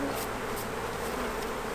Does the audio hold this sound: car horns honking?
no